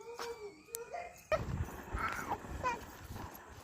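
A dog lets out a few high, wavering whimpers and whines, then people talk nearby over rustling and shuffling.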